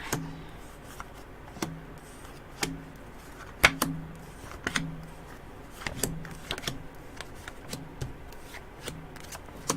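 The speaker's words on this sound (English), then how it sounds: "Alright, so I think I shuffled this good." A deck of tarot cards being shuffled at a table, with repeated crisp riffling bursts and soft slaps at an uneven rhythm, fairly close and quiet, with no talking.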